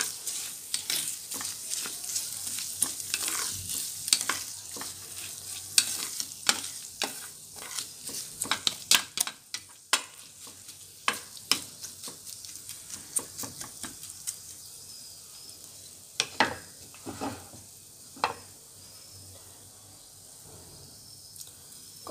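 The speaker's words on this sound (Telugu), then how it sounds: "మంచిగా కలుపుకోండి." Paneer fried rice stirred in a frying pan, a soft steady sizzle broken by repeated sharp scrapes and clicks of the spoon against the pan, close and alone without talk.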